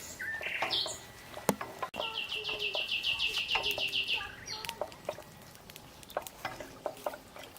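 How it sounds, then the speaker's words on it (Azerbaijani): Birds call in a village, with a quick run of repeated bright chirps in the middle and scattered tweets around it. Soft clinks and rustles from nearby kitchen work sound under them. "quşdan elə səsi gəlir"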